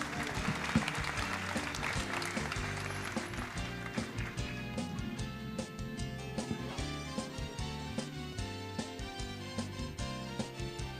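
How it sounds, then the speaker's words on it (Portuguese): Audience at a solemn ceremonial session honoring priests breaking into applause, uneven hand claps over a music-like tonal background, fairly faint and distant, with the clapping thinning into sparse separate claps toward the end. "Merecem os nossos aplausos."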